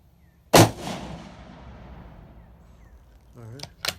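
A single loud rifle shot from a Savage 110E chambered in .270 Winchester, firing 130-grain rounds, cracks close by and rolls away in a long fading echo outdoors, followed by brief voices at the end.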